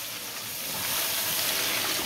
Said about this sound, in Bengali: এই যে জল দিয়ে দিলাম